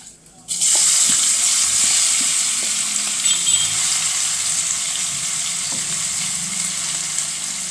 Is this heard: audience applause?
no